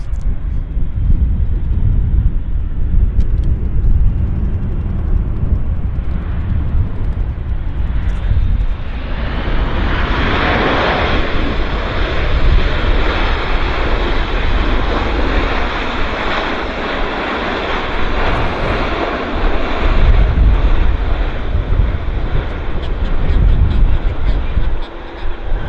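Cargo aircraft engines at Vancouver Airport give a broad, rumbling roar that swells into a louder whooshing surge partway through and keeps going, with speech also present.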